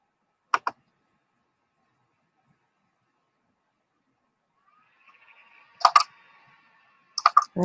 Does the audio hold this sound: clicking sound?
yes